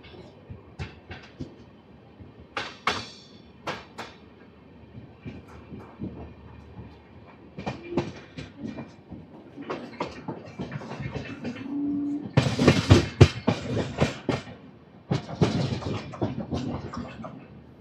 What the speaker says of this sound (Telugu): ఒక 3 minutes తర్వాత లోహోర్ జంక్షన్ నుంచి మన ట్రైన్ స్టార్ట్ అయిపోయింది.